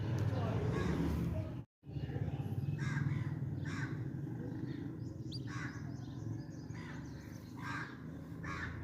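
A crow caws repeatedly in short harsh bursts at a distance, spaced irregularly over a steady roar of wind or traffic.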